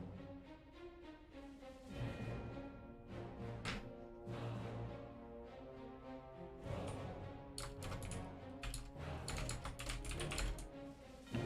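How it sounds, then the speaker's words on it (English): Quick clacking keystrokes on a computer keyboard come in bursts, faint and close, over a quiet, tonal background; no one speaks. "What are you typing in the chat over here, Dave?"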